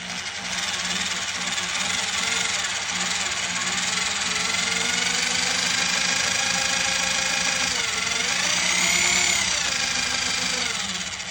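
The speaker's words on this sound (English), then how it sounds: "Don't press too hard on the drill, okay?" A power drill whines steadily and loudly while drilling through a wooden bass drum shell, its pitch shifting as the bit bites and then sweeping upward near the end, with no talking.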